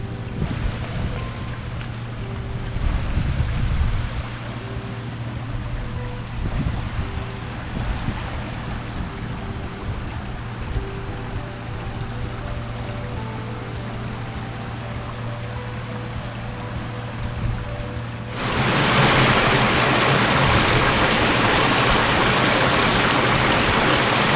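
Water rushing steadily beside a bridge on a countryside walk near Church Pulverbatch, a continuous close wash with wind noise that swells noticeably louder toward the end.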